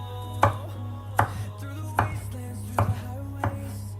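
A knife chops garlic on a cutting board in a home kitchen, five distinct, evenly spaced thuds over a steady low hum, close and clear with no talk.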